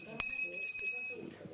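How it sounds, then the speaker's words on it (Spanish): During a committee session for older adults, a small handbell rings with a bright, sustained metallic tone and a few sharp strikes, heard close beneath murmuring voices. "hasta la campanilla suena más o menos"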